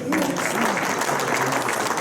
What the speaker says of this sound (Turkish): tebrik ediyoruz, teşekkür ediyoruz, alkışlarla uğurluyoruz